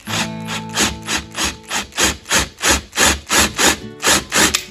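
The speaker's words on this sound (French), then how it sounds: "Et on se met à percer." A 9 mm drill bit bores through a part on a Honda CRF450R supermoto to fit a chain guide. It gives a steady run of about a dozen loud, rhythmic grinding pulses, close and with no talking.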